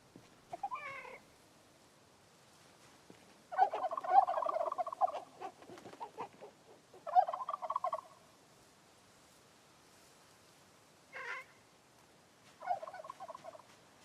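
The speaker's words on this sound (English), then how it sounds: "Yeah, some sound like turkeys" Turkeys gobbling in the Project Zomboid game, several short warbling bursts separated by quiet gaps, faint and somewhat distant.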